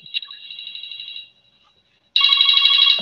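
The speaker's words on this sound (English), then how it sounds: "Somebody has a phone call." A telephone rings with a steady electronic warble, breaks off into a brief silence, then rings again louder and fuller, with no talking over it.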